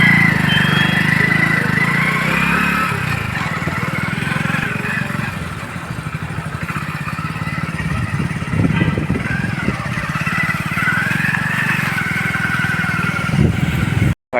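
A motorbike ride with a steady, loud engine drone and wind rumble, the revs rising and falling a little throughout before cutting off abruptly at the end.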